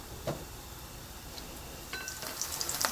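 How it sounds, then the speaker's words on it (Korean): Scallion oil bubbling and sizzling in a pan over low heat, a faint steady fry with small crackles and pops that grow slightly livelier toward the end. "뽀글뽀글 끓을 때까지 기름 내주세요"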